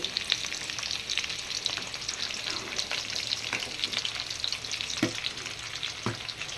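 A pot of Tamil-style bone curry bubbles and seethes continuously in a steady, hissing simmer, with a couple of soft clinks near the end and no talk.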